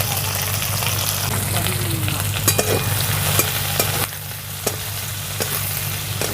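Chopped onion, garlic and green chilli sizzle in hot oil as they brown, a dense continuous crackle with a few sharp stirring scrapes near the pan and a faint voice in the background.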